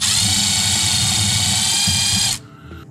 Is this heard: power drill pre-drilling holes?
yes